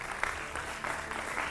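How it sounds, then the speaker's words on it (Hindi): A television debate audience gives a brief burst of steady clapping to welcome a guest. "जोरदार तालियों से स्वागत कीजिए भारतीय जनता पार्टी के राष्ट्रीय"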